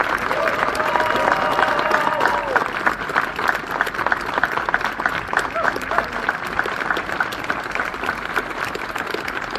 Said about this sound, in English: So a dedicated, hearty round of applause for a very dedicated public servant.